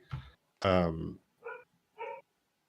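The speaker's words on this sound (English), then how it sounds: "there's my dog" A dog gives a handful of separate barks and yelps, close and fairly loud, with short pauses between them.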